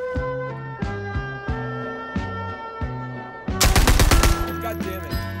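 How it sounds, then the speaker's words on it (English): Gunfire in the video game Garry's Mod: a run of evenly spaced, punchy shots, then a loud, rapid burst of automatic fire near the end, close and dominant over a steady tonal backdrop. "I just heard the gunshot."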